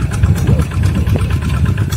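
A tractor engine runs steadily in a rice paddy, its low, continuous rumble holding close and even throughout with no pauses.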